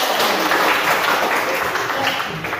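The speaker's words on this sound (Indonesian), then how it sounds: "Tepuk tangan." A group of students in a classroom claps together, giving a short, dense burst of hand clapping that stays fairly loud throughout.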